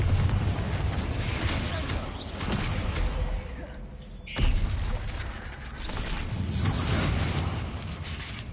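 A Confringo blasting spell in Hogwarts Legacy lands as a single sharp explosive burst midway through, set amid ongoing game ambience and mechanical rumbling.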